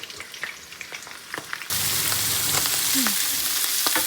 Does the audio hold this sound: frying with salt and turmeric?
yes